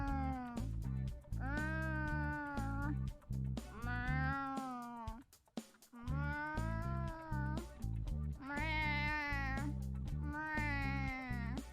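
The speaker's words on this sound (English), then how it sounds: "Why is she making cat noises?" A character in the game PacaPlus voices a string of cat noises, several drawn-out meows and mewing calls in a row with a short pause midway, loud and close.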